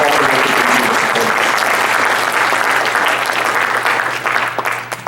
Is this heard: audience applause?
yes